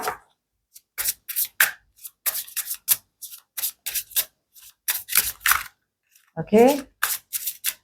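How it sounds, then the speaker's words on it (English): Crisp bursts of tarot cards being riffled and shuffled in quick, uneven clusters, close up, with a brief spoken word near the start. "one last shuffle"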